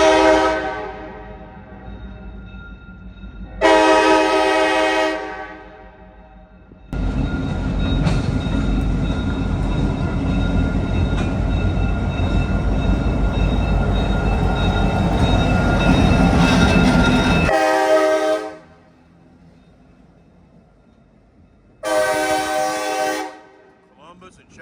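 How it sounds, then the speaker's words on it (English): A small Columbus and Chattahoochee Railroad freight train rolls down a street track about a block away, sounding several long horn blasts around a loud stretch of rumbling cars, with the horn returning after the train passes. "The train on the track."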